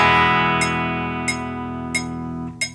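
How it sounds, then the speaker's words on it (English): A single guitar strum rings out as a whole note, held across a four-beat bar and slowly fading, with soft clicks ticking the four beats. "A whole note is when you play a single strum or pick a note and it lasts for the duration of the"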